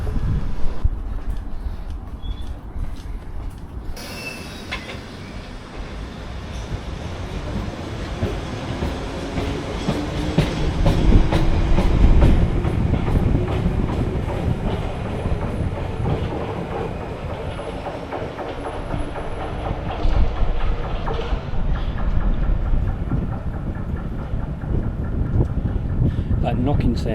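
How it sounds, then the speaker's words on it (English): Rhythmic knocking from wheel flats on a London train passing near Down Street sidings, a loud rumbling rail roar with clattering wheels and wind noise over the microphone. "that knocking sound you can hear, assuming it's picked it up, that's flats on the train."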